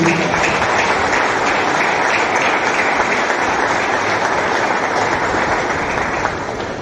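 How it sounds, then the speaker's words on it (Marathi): A large audience at a charismatic prayer meeting claps loudly and steadily for several seconds. The dense applause holds nearly constant and eases slightly at the end. "म्हणून आपण जोरदार टाळ्या त्या परमेश्वराला धन्यवाद देऊ"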